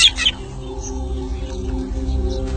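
A drongo gives a short alarm call in the wild, a brief sharp burst followed by a lower, sustained droning background.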